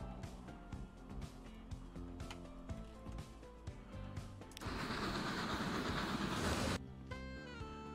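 A train running on rails in the Transport Fever 2 video game. A steady, loud rolling rumble with clattering lasts about two seconds and stands out against a rhythmic music track.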